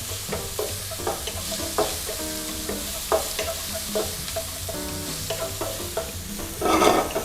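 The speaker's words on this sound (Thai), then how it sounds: "ร้อนเสร็จใส่น้ำมัน 2 ช้อนโต๊ะนะครับ แล้วก็ พริกกระเทียมที่เราใส่ไป" Chili and garlic stir-fried in hot oil in a wok for Thai basil pork, a continuous sizzle punctuated by repeated scraping and clanking strokes of the spatula, with a louder burst of frying near the end.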